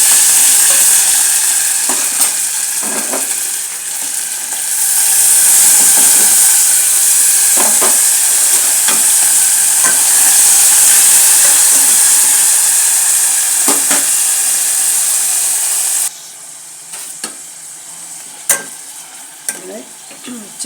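Ginger garlic paste sizzles loudly in hot oil for a Rayalaseema-style chicken kurma. A steady frying hiss runs throughout, broken by spoon-scraping stirs, and quietens near the end.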